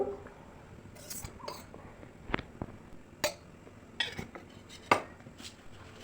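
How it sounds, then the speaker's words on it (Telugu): A metal kadai is set on the stove for a tomato and potato curry. Several sharp, scattered metallic clanks and knocks sound close by against a quiet background. "ఇప్పుడు కడాయి పెట్టుకొని అందులో ఆయిల్ వేసుకోవాలండి"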